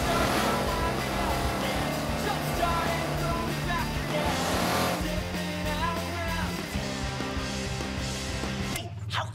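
A dune buggy engine runs steadily close by, a continuous low rumble with rising and falling revs that cuts off abruptly near the end.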